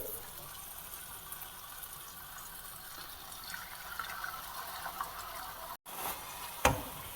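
Water pours steadily into a pan of fish curry, a sustained close watery rush that briefly cuts out near the end, followed by a single sharp clink.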